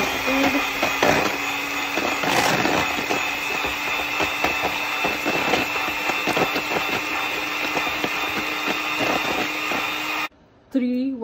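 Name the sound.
electric mixer beating eggs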